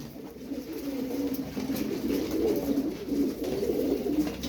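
Soft, continuous cooing of feather-footed Iraqi pigeons, several birds murmuring low and steady together close by, with no talking.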